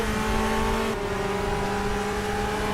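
A Ferrari and a Porsche racing in a DTM 2021 round at the Lausitzring in the RaceRoom sim, engines holding a steady high-pitched drone with a pitch shift as one car shifts gear, loud and continuous.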